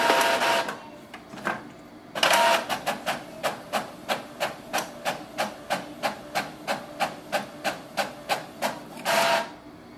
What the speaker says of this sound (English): You can print a test page.